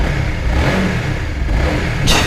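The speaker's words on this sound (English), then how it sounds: "just press the starter button over here" A Honda CBR150R motorcycle engine runs steadily and close after being started with the push button, then gives a sharp rev at the end.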